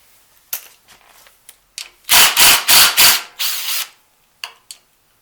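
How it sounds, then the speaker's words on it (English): A rubber hose is pulled off the valve cover of a Kohler Courage engine, making several loud, close rubbing squeaks in quick succession, with scattered lighter scrapes before and after. "This hose just pulls out."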